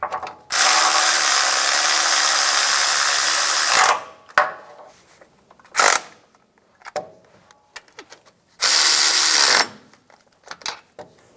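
Power ratchet snugging down bolts on the compressor of a 2000-2006 Toyota Tundra 4.7L V8, with two long loud whirring bursts, short buzzy blips in between and faint clicks and handling noises in the quiet gaps.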